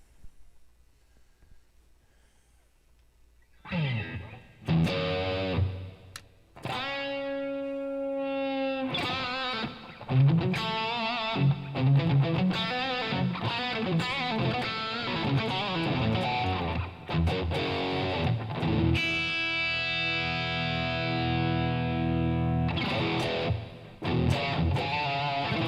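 A distorted electric guitar, a Harley Benton SC550+ with EMG pickups, plays loud, dense riffs with sustained chords and quick runs, starting after a few seconds of quiet and continuing steadily.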